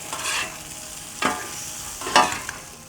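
Ingredients are tossed and mixed in a hot pan, with three sharp shaking bursts over a soft, constant sizzle.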